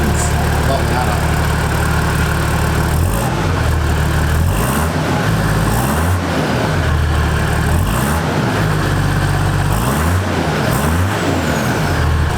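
Straight-piped 1HDT Landcruiser diesel with a 3-inch exhaust running loud, steady low idle punctuated by several deep revs that swell and drop back in a repeating pattern.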